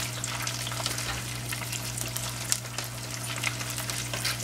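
Beer-battered catfish fries in hot oil with a steady, even sizzle and scattered crackling pops over a low constant hum.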